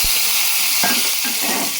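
Ground spice paste hitting hot oil in a pan (bandli) for a moong seed paratha dish: a steady, fairly loud sizzle throughout with stirring scrapes, no voices.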